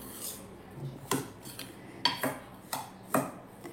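Rava dough for karanji is stirred in a bowl, with a spoon knocking and scraping against the sides in a loose rhythm of distinct clinks.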